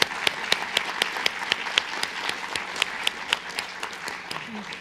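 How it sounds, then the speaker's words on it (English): Audience applause for the panel at a community safety forum, a steady wash of clapping with sharp individual claps standing out, fairly close and continuous throughout. "Let's give everybody a big round of applause."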